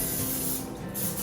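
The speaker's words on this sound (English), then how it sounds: "We're going to spray it with olive oil, keep the top soft." Olive oil is sprayed from a spray bottle onto the top of a sourdough loaf, a continuous close hiss with a brief dip partway through before the spray resumes.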